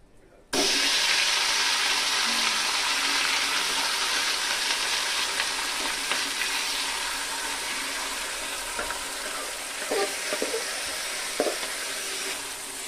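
Marinated mutton dropped into a hot pan with spices and a bay leaf, starting with a sudden loud sizzle that holds steady as a broad hiss, with occasional clinks and stirring scrapes.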